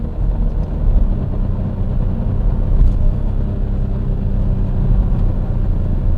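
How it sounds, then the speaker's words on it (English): A supercar with an SMG gearbox drops from third to second gear, its engine a steady, loud close-up drone with a brief swell in the middle and no talking. "let's do a downshift from 3rd to 2nd"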